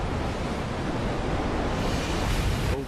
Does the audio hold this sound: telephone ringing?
no